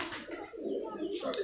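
Pigeons from a champion pigeon-flying tournament loft on a rooftop in Mianwali coo softly and repeatedly, their low murmuring running under people talking nearby.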